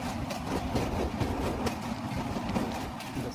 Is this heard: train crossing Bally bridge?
yes